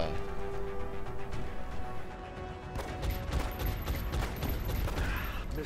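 Gunfire in the video game XCOM: Enemy Within, a burst of sharp crackling shots and impacts rising over game music and ambience, fairly loud through the second half.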